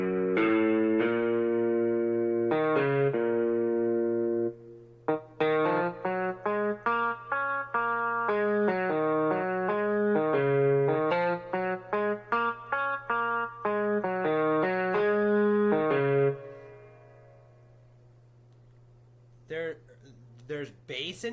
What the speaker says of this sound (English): There's a distortion section.